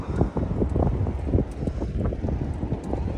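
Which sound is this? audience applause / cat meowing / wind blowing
wind blowing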